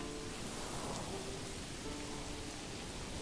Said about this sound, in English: our supplies are getting soaked in this pouring-ass rain